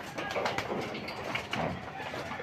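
A pigeon comes back to its loft through the trapdoor, with faint wing flutters and soft cooing amid low, steady background noise.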